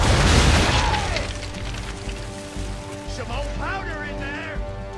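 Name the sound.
ship cannons firing in the video game Assassin's Creed 3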